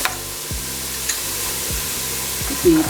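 Peas and beans frying in a pan for vegetable pulao make a steady, close hiss of sizzling oil with faint stirring scrapes under soft background music.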